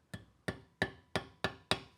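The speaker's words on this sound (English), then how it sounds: "A 2-pound hammer." Six evenly spaced, sharp blows from a two-pound hammer in a metal shop, each strike ringing briefly before the next, close and loud with no talk.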